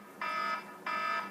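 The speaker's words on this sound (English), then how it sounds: "You can hear the alarm going off for the end of the boil" Electronic alarm signalling the end of the boil during home brewing of a saison beer, sounding two loud, steady high-pitched beeps of about half a second each, close by and alone.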